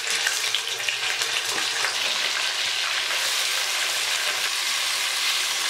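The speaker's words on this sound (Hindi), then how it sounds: "आयल गर्म हो गया, अब हम इसमें चिकन डाल देते हैं।" Chicken pieces frying in hot oil in a kadai make a loud, continuous close-up sizzle that holds steady from start to finish with faint stirring underneath.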